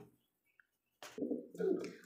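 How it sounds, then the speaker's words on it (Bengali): A male Gamas Iceber pigeon coos in two low, fairly quiet phrases close by after a near-silent pause. "এটা হচ্ছে গামাস আইসবার ধামাসিন কবুতর দেখেন। তো কি পাগলা নর দেখেন, ডাকতেছে কি দেখছেন"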